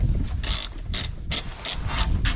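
A ratchet wrench clicks rapidly and close up as nuts come off the drop links of a Mini Clubman JCW during a coilover fit, each short run of sharp metallic ticks loud and clear.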